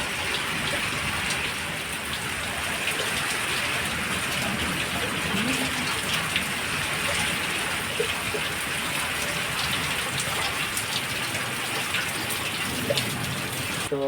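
Heavy rain pours down over a village with gusting wind, a dense continuous roar of falling water and splashing that stays loud throughout.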